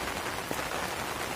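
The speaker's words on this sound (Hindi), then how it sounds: "अभी बारिश चालू है ना दोस्तों" Rain falling steadily on a waterlogged farm field with standing water among peanut crops, a continuous even hiss with no talk.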